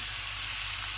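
Minced meat frying in a pan on high heat gives a steady, bright, close sizzle with no break and no voices.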